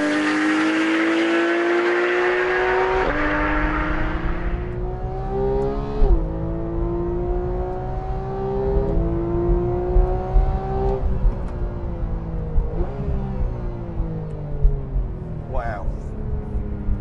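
A 2014 Porsche 911 GT3 sports car with a manual gearbox revs hard through repeated upshifts, each pitch climb cut short by a gear change over about seventeen seconds, loud and close from the cabin.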